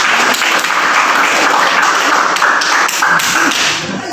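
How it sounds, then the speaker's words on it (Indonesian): Steady applause from a seated audience at a teachers' group presentation session in Manggarai, a dense wash of clapping filling the room for several seconds with no voices over it. "Mari kita berikan tepuk tangan."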